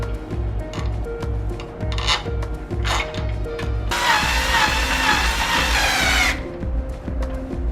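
Screws being driven in to secure a Lockly Secure Pro smart lock plate, with rubbing and scraping turns followed by a longer stretch of harsh grinding from a power driver, up close.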